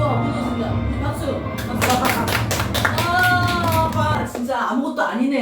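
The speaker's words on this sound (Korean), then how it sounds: "우리 박수." A crowd claps together at a church service, a dense burst of applause running for several seconds under music and voices before fading near the end.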